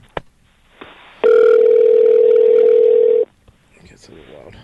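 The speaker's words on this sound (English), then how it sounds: "And it's ringing." A telephone on an outgoing call gives one loud, steady ringback tone for about two seconds, with faint talk around it.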